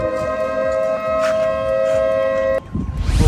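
A steady, droning siren tone holds for about two and a half seconds, then cuts off abruptly into rustling background noise.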